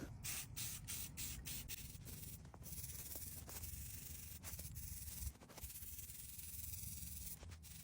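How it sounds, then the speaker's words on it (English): An aerosol can hisses as it sprays a fresh coat of paint onto cleaned plastic. The bursts are steady and close, broken by several short pauses, with no one talking. "we're going to clean off the plastic and give it a fresh coat of paint"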